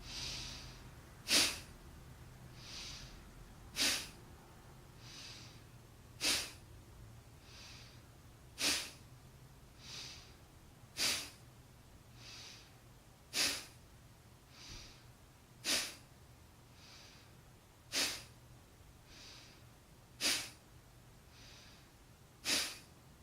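Rapid breath-of-fire breathing exercise: sharp, forceful nasal exhalations snorting out at a steady, even pace, about one every second or so, close and alone over a quiet low hum.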